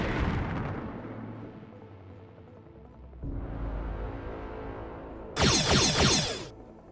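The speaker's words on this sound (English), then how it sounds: "The Trellisk takes a series of polaron bursts, and the wreckage is destroyed." A heavy blast destroys starship wreckage under polaron fire in the Star Trek: Alliance space game: a loud, crackling burst with a hissing high edge rises late and then fades after an earlier rumbling roar.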